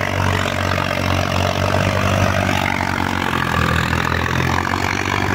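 A loud, steady diesel engine of a Sonalika 745 tractor chugging at idle close by, a constant low throbbing rumble with no talking.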